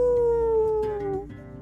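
A drawn-out, falling howl in a children's animal-sounds story, a single loud sustained wail that slides downward and fades, most likely a voice performing it.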